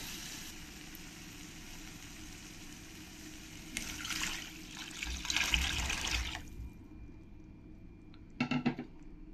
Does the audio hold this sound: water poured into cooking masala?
yes